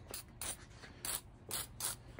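Free All penetrating oil is sprayed in short hissing bursts onto the moving parts of an old industrial sewing machine, four or five quiet, evenly spaced squirts heard close up with no talk.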